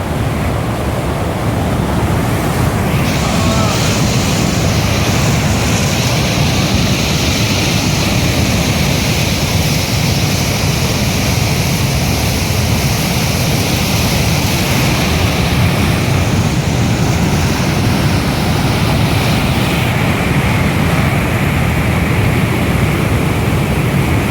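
Torrent of water pouring through Shidheshwar Dam, a loud, steady broadband roar that holds unbroken from start to finish, close by with no voices.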